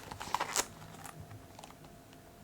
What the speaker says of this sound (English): Let's just test the zipper.